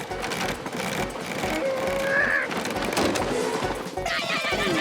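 A cartoon horse whinnies loudly close by as it is unhooked from a stagecoach, its shrill call rising over a dense, clattering background.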